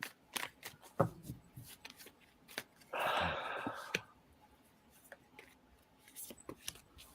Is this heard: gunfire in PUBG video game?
no